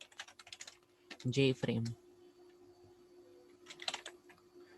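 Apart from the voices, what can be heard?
typing code on a computer keyboard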